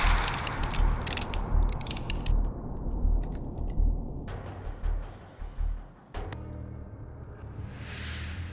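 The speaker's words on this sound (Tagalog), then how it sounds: "Cock your hammers!" Several gun hammers are cocked at once during a desperate game of chance, with clustered metallic clicks and ratcheting at the start, followed by a lower mechanical rumble and a few scattered clacks.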